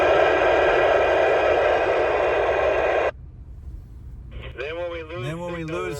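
A Radioddity CB-606 CB radio hisses with loud, steady static for about three seconds, then cuts off abruptly; a voice follows briefly afterward.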